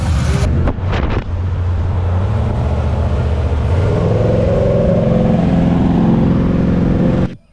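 A Chevy OBS truck with a swapped-in 350 engine doing a burnout, a brief bang and then a loud, sustained engine roar building and holding before cutting off abruptly.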